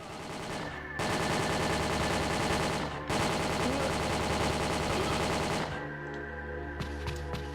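Gunfire from a mounted turret in the action video game Winback: Covert Operations, dense rapid automatic bursts that hammer on loudly in two long stretches, then thin into scattered shots and game sounds.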